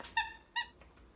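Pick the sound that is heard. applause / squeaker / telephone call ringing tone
squeaker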